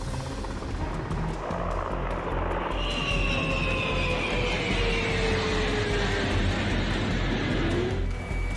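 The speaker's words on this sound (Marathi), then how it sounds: "युक्रेनचं आकाश रशियाच्या लढाऊ विमानांच्या गर्जनांनी दणाणून गेलंय" Russian fighter jets over Ukraine during air strikes make a loud, continuous roar that holds steady from start to finish, with a sweeping engine whine drifting overhead.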